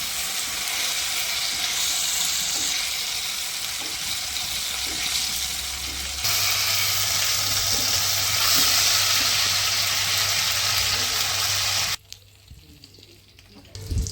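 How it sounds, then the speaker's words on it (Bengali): Chicken pieces fry in oil and butter for tandoori chicken on a homemade tin griller, giving a loud, steady sizzle that swells midway and then drops away abruptly near the end. "দুই দিকটাকে ভালোভাবে ভেজে নিতে হবে।"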